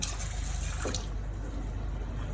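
Water running and splashing into a pan while fried rice with gizzard cooks at home, a steady liquid rush with a brief splash near the start.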